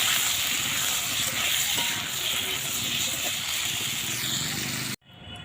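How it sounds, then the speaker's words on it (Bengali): Potato pieces seasoned with salt and turmeric frying in hot oil give a steady, dense crackling sizzle that carries on without pause, then cuts off abruptly just before the end. "আলুতে দিয়ে দেবো একটু নুন আর দেবো একটু হলুদ। দিয়ে তেলে ভেজে নেব।"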